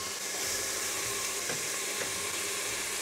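Onion, garlic and seasoning peppers sautéing in a pot for cow heel soup, a soft continuous hiss and sizzle with a couple of faint stirring taps.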